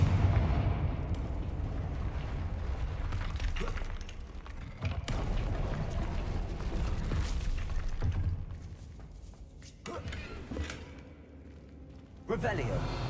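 Blasting-spell explosions in the Hogwarts Legacy video game, a run of heavy booms and thuds with crackling debris, loud and dense, rising and falling over continuous game sound.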